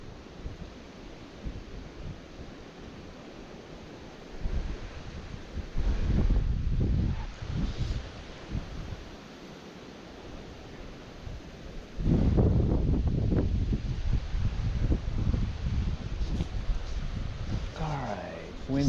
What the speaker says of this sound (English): Alright, wind picked up on us too.